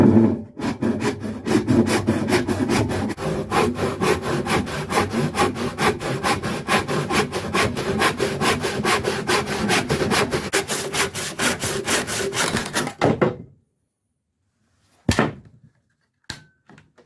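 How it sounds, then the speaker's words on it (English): A hand saw cuts through a length of wood for a camper trailer skylight frame, with rapid, steady back-and-forth rasping strokes close up for about thirteen seconds, then silence and a couple of sharp knocks. "let me get this wood cut to 16 inches"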